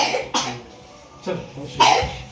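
A child coughs three times in short, separate bursts, close by, with brief quiet gaps between the coughs.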